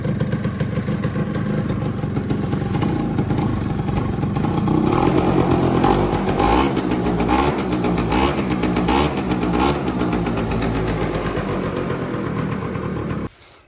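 A Bombardier DS90 ATV engine running steadily, a loud close buzzing idle with rhythmic rev blips in the middle before cutting off at the end.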